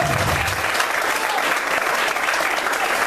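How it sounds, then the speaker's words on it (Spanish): A church congregation claps joyfully during a sermon, a thick, even wall of applause sustained throughout without speech. "Aplaudan, aplaudan con alegría."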